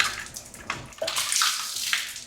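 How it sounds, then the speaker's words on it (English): Water splashes and gurgles as it drains out of a Hydrobale 722's water inlet line through the open 2-inch cap port, in uneven bursts with a splattery burble in the middle. "drain out any water that's in the line"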